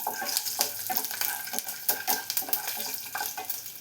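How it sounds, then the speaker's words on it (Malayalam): Dried red chilies and garlic cloves sizzle in hot coconut oil in a pan, a steady close frying crackle broken by scraping stirs and light clinks of a utensil against the pot. "ഇതിലേക്ക് നമുക്ക് ഒരു 3 ഉണക്കമുളക് ചേർത്ത് കൊടുക്കാം. 6 വെളുത്തുള്ളി അല്ലി കൂടെ ചേർത്ത് കൊടുക്കുകയാണ്."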